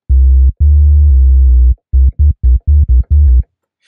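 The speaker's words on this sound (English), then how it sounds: "So the first one is, like I said, a square wave, and it sounds like this." A square-wave synth bass patch in Massive plays a loud, buzzy low tone alone. It starts with a few long held notes, then moves into a run of short, choppy repeated notes before stopping.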